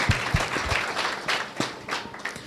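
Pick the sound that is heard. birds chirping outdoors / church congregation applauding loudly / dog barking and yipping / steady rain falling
church congregation applauding loudly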